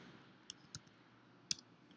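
Three quiet, sharp clicks of a computer mouse, spaced irregularly over a low background hum, as a right-click is made on a main package in a coding environment.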